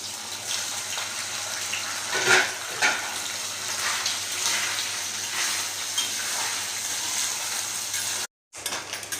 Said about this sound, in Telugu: ఈ ముక్కలు వేసేసి వేయించుకోవాలి